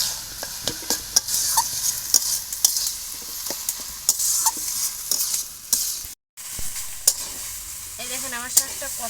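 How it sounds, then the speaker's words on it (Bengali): Leafy village greens with salt and turmeric are stirred and fried in a pan, a steady sizzle broken by frequent sharp scrapes and clinks of the spatula against the metal, close and fairly loud. "নেড়ে চেড়ে শাকটা আমি ভালো করে ভেজে নেব।"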